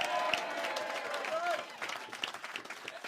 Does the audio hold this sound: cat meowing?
no